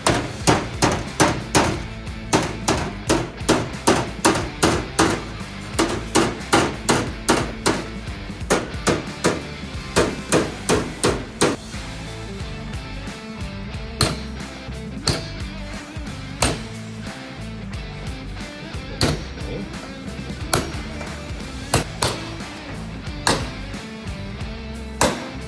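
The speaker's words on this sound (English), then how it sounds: "Using the dollies and body hammer, we closed up the seam at the bottom of the first door." A body hammer strikes against a dolly to close the bottom seam of a Ford Model A steel door panel, sharp metallic blows repeating in quick bursts and steady runs for about twenty-five seconds, loud and close.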